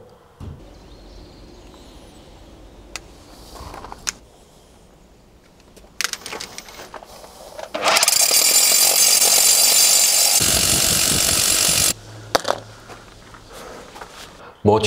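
A heavy power drill bores a hole through an exterior wall, running loud and steady for about four seconds after some handling clatter and short bursts, then stopping abruptly, with someone speaking intermittently around it.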